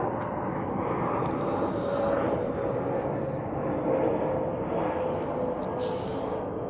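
Aircraft pass overhead as a steady, broad low roar that fills the background, fairly distant and unbroken, with a faint whine rising and falling over it.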